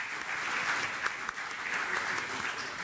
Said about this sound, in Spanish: las señoritas que nos han apoyado tan amablemente hasta merecen un aplauso especial